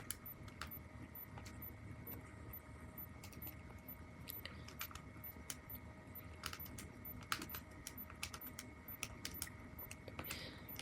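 Rapid, light plastic clicks of calculator buttons being pressed in irregular bursts, close and quiet, with a faint steady hum underneath.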